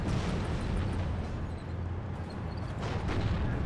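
A T-80B tank destroyed in the tactical game WARNO erupts in a deep, rumbling explosion that lingers as a dense, loud roar with low booming swells for several seconds.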